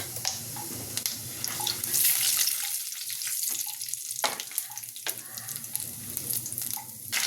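Panch phoron spices fry in hot oil left from frying shrimp, giving a steady loud sizzle and crackle with brief sharp pops scattered throughout.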